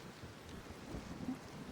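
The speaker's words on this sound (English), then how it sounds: "Plus it's raining, so it's horrible out here." Rain in the Scrap Mechanic video game, a steady hiss of falling rain with a low rumble underneath, continuous and even in loudness, no talking.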